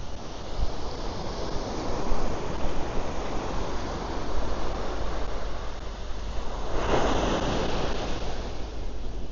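Ocean surf rolls continuously onto Bang Tao beach in Phuket, a dense steady roar of breaking waves with one louder wash swelling near the end, with wind noise on the microphone and no talking.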